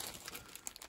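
A sealed plastic bag holding motorcycle helmet visor blanking plates crinkles up close in a brief, busy rustle of small crackles with no talking.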